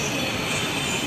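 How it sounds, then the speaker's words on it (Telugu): A Hyderabad metro train at the platform as passengers board, giving a steady rumbling wash of rail noise with a faint wheel squeal, close and continuous. "మెట్రో ఎక్కుతున్నాం."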